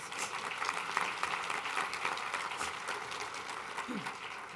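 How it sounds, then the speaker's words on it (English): A crowd applauds steadily throughout, a dense wash of clapping at moderate level with no break. "Let's give them another round of applause."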